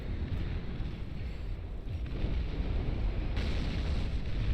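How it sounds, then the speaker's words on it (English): Catapults firing in the real-time strategy game Beyond All Reason during a large 8v8 battle, heard as a constant roar of distant booms and impacts that swells midway, with no voices. "Catapults firing away"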